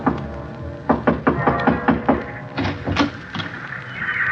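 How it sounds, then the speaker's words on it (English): Knuckles rap on a wooden door in a series of about a dozen firm, close knocks in uneven groups, followed by some dull shuffling. "I knocked on the door for a good minute before it finally opened."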